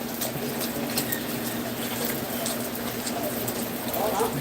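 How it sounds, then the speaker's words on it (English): Rain falling on a street in Situbo in the Philippines, a steady hiss of drops with a faint hum and occasional birds, close and continuous without talk. "Yes, it's raining here."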